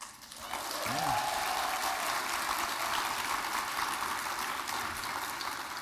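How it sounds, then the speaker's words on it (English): Polite audience applause at a health summit: a sustained, moderate patter of clapping heard from across a hall, with a brief voice at the start. "And they clap so politely."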